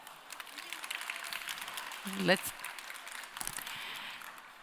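A conference audience at the Perspektywy Women in Tech Summit 2019 claps for a speaker, a dense wash of applause held at an even level with a voice heard through it.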